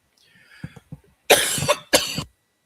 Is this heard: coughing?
yes